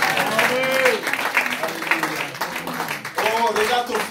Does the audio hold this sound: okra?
no